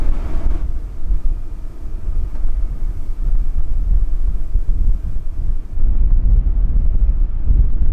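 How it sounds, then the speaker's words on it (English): Gusty wind roaring against the microphone on open Montana antelope country, a low rumbling rush that surges and eases throughout, with no voices. "Just another really windy day"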